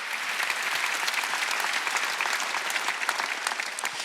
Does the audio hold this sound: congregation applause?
yes